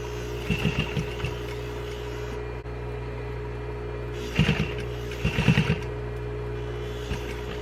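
Short bursts of a sewing machine stitching a half-inch seam in T-shirt fabric for a drawstring mask, a few quick runs of rapid needle chatter over a steady background hum, with pauses between.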